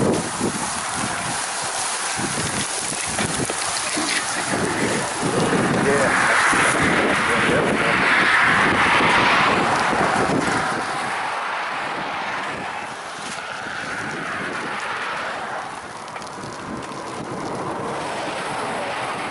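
A strong headwind buffets the microphone outdoors on a solo camping trip, a loud continuous roar that swells in the middle and eases later, with a voice faintly under it.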